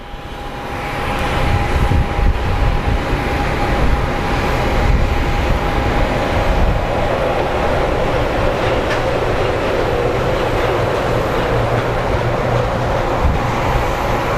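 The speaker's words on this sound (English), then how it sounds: "looks like we do have our Brasilia coming in" An Embraer Brasilia turboprop arrives at Phoenix Sky Harbor airport, its engines a steady, loud broadband roar that builds over the first seconds and then holds, with a faint tonal whine early on.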